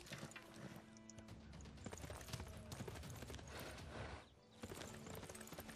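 A horse unit's hooves clip-clop in the strategy game Civilization VI. The hoofbeats are loud, repeated and fairly rapid, with a brief dip near the end before they continue.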